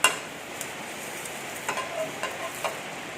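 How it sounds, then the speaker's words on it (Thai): Chili, shallots and garlic fried in a pan with oil, a soft steady sizzle with a few light scrapes and stirs, close and quiet without talk. "นี่ พริกเจียวพริกนิดครับหัวหอมหัวกระเทียม เอาลงไปขัวกันครับ"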